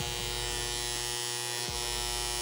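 An electrical contactor with an internal fault buzzes steadily and loudly. The tone is a constant harsh electrical hum with no speech over it.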